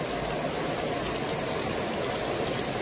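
Steady rain pours down in Jamaica as a dense, even hiss that never lets up, with a constant wash of drops hitting surfaces nearby.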